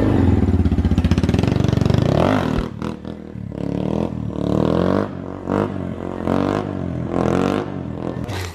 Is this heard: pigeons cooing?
no